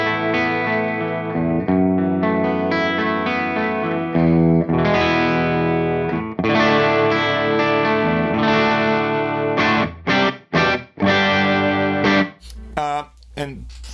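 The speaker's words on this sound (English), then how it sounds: "this is the clean sound on the bridge pickup" Gibson Les Paul on the bridge pickup, run straight into a computer with cabinet emulation, playing a slightly overdriven clean tone: sustained chords and melodic phrases with a few choppy, stop-start strums near the end, loud and alone.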